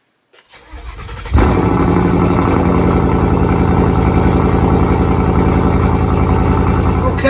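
A Shelby Mustang GT500 sound module on a 1:6 scale model kit cranks and fires up, then settles into a steady rumbling idle, loud and close after a brief quiet start.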